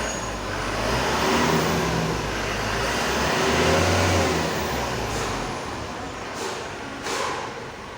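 Mitsubishi Canter Euro 4 truck engine being revved with a check-engine fault from an unplugged sensor, a close diesel drone that swells and eases over several seconds, ending with a couple of sharp hissing bursts.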